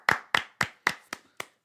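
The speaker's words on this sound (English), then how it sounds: "Round of applause to Max Strus." A few sharp hand claps during a casual basketball talk show: six distinct claps, close and dry, evenly spaced and growing quieter before stopping.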